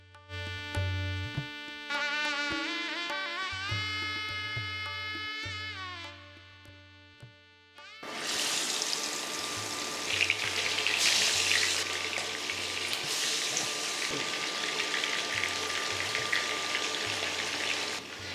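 Katla fish pieces dropped into hot mustard oil in a kadai, starting a loud, steady sizzle and crackle that runs alone after a brief stretch of clinking and tonal sounds.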